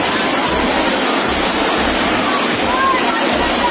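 Flood water rushes through the Chowk Bazaar market street in Mathura as a loud, continuous roar of turbulent water, with a voice faintly audible beneath the torrent.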